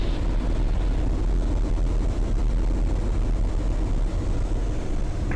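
Eurofox light aircraft engine throttled back to low power, a steady broadband drone with wind noise filling the cockpit, continuous and fairly loud throughout with no talk.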